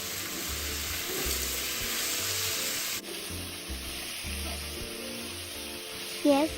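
Mushrooms are stir-fried in a wok with soy sauce, a dense, close sizzle with rhythmic scraping from the spatula, briefly dropping in intensity midway before a final clatter.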